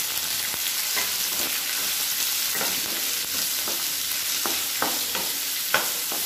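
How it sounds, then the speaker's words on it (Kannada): Onion and curry leaves fry in hot oil while being stirred, a steady close sizzle broken by scraping spoon strokes against the pan, with no talking. "ಈರುಳ್ಳಿ ಮತ್ತು ಕರಿಬೇವಿನ ಸೊಪ್ಪು ಹಾಕ್ತಾ ಇದ್ದೀನಿ. ಹಾಕ್ಬಿಟ್ಟು ಚೆನ್ನಾಗಿ ಮಿಕ್ಸ್ ಮಾಡ್ಕೋಬೇಕು"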